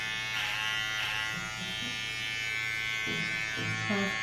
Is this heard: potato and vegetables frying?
no